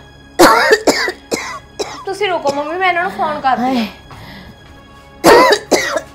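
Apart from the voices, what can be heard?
woman coughing repeatedly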